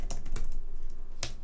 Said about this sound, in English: so usually we type like this, right?